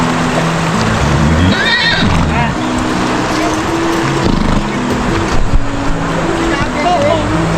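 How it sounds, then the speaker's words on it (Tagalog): Three horses whinnying in a relaxing outdoor place, a couple of high neighs rising over a constant noisy background. "Tatlong kabayo."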